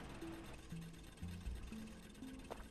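An electric mining drill in the video game Factorio runs with a steady, rattling mechanical hum and low repeating tones, heard quietly and continuously.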